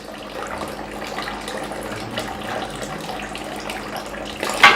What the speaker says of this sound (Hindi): अब ये दोनों होसेस से पानी आ रहा है कि नहीं